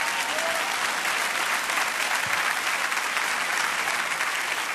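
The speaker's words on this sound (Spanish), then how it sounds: "Dale un aplauso al Señor." Dense, sustained applause from a large church congregation during a Spanish-language sermon, loud and even throughout, with a crowd murmur beneath the clapping.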